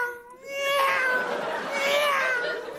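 A house cat gives one long, drawn-out, wavering meow, close and clear, with faint voices in the background.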